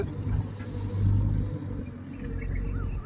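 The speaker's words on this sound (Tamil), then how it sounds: "ரிவர்ஸ் கியர் போட்டாச்சு. வண்டி பின்னாடி வரும்." A car's engine rumbles low and steady, close by, as the driver shifts into reverse gear and the car begins to back up. There is no talk over it.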